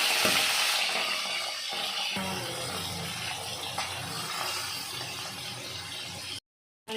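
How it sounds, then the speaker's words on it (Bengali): Hot oil sizzles and crackles steadily as tilapia fish fry two at a time close up, then the sound cuts out briefly near the end. "তেলটা গরম হয়ে গেছে তারপরে আমি দিয়ে দেবো মাছ দুটো করে ভাজবো"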